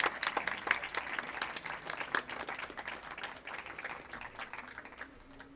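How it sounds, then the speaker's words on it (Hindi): An audience at a current-affairs quiz show claps steadily for a moment, a moderately quiet, continuous patter of many hands that tapers off near the end. "तालियों में थोड़ी कंजूसी मत करिए,"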